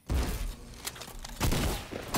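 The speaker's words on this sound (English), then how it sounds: "he's trying to hit me with a headshot sniper now." Sniper gunfire in a video game: two loud, sharp broadband shots, one right at the start and another about a second and a half later, each followed by a sustained rumbling tail.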